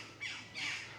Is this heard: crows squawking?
yes